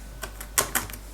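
Typing on a computer keyboard: about five crisp, close key clicks tapped at an uneven pace over a faint steady hum.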